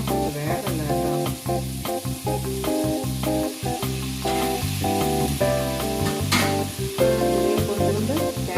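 Grated beetroot frying in a pan for beetroot chutney, with steady sizzling under a stirring rhythm of repeated scraping strokes, close and moderately loud, no talking.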